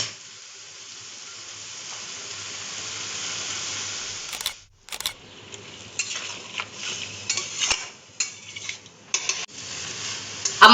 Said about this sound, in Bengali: সমস্ত মশলা, আলু আর মুসুরির ডালটাকে কিন্তু ভালো করে কষাতে হবে